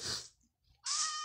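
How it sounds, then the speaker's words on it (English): A baby kitten in a video game gives two short, high meows separated by a brief pause, the second one clearer and brighter, close and alone. "Oh, look, the baby kitty."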